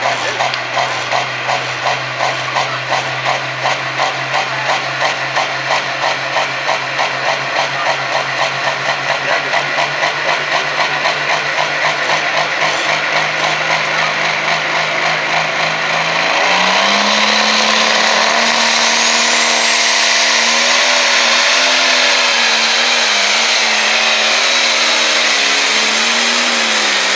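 A pulling tractor, a 7930 rated at about 4,000 horsepower, throbs with a steady pulsing drone, then surges into a louder, higher, sustained roar partway through, heard in an outdoor fair setting.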